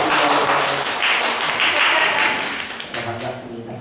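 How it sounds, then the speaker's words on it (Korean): A church congregation breaks into a short burst of hand-clapping applause that fades after about three seconds, with a voice speaking over the tail end. "우리 승현 자매 일하는 박수 한번"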